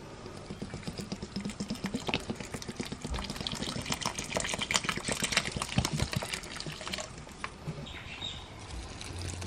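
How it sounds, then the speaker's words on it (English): Water pours from a can into houseplant pots indoors, a continuous trickling and splashing stream with small patters and fluctuations, fairly close and moderately quiet. "So I'm gonna go water my plants as well."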